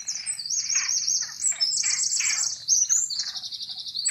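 A songbird sings clearly and close, with rapid high trills and chirps repeating in quick bursts against a quiet background and no talk.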